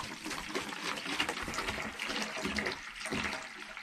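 Warm water runs steadily from a tap, probably filling a container to feed a young goat rejected by her mother, a continuous splashing flow at moderate level with no talk over it.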